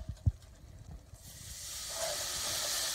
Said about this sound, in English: Then add in your beef stock.